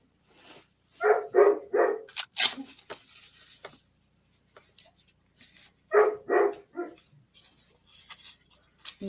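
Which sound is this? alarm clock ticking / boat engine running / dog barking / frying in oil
dog barking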